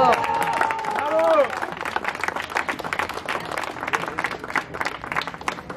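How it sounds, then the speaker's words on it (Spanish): An audience at an ultramarathon award ceremony applauds steadily with dense clapping. A voice speaks over the start, and the crowd noise carries on throughout. "Un aplauso. ¡Bravo!"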